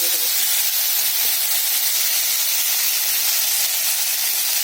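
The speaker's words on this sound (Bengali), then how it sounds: "সবজিটা কষানো হয়ে গেছে, মশলা দিয়ে এবার মতো জল দিয়ে দেবো।" Water poured into a pan of spiced vegetables sautéed with cumin, coriander and ginger paste for a fish curry, giving a loud continuous steamy hiss and sizzle close up, with no talking.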